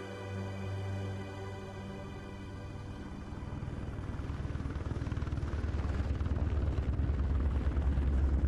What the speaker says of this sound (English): Get in the helicopter quickly.